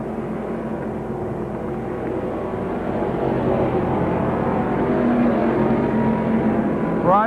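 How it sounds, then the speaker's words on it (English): Late model super stock race cars charge around a tri-oval at a 1986 championship race, giving a continuous engine roar that swells slightly as the pack approaches. "the late model Superstocks are charging around the tri-oval here"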